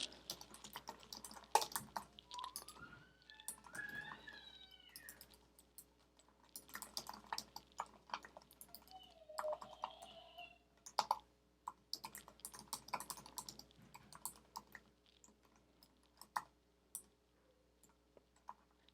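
Irregular clicking of keys on a computer keyboard, close and quiet, with faint chirping in the background and a low steady hum.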